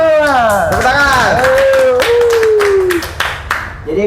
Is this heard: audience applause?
yes